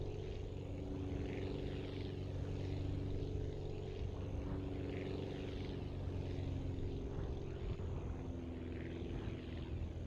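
Airplane engine and propeller in the flight game Aviassemble, a steady droning hum with a continuous buzzing tone throughout, fairly quiet and without talk.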